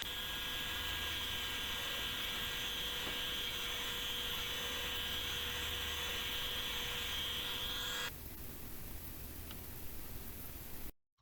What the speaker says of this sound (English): I clamped a sander to my table and went around and just sanded the whole thing to